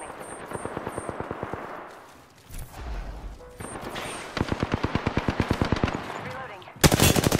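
Automatic weapon fire from the video game Apex Legends crackles in rapid, evenly spaced bursts. A brief lull and some softer game sounds give way to another sustained volley, and the loudest burst comes at the end.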